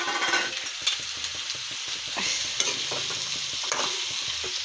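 Tomatoes frying in a pan with potato and eggplant for a curry, a steady close sizzle with scraping stirring strokes through it and no talking.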